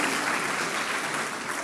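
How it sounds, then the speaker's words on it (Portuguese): A packed church congregation bursts into strong, continuous applause during a sermon. It is close, loud and dense, with no pauses and no voice cutting through. "pode aplaudir Jesus?"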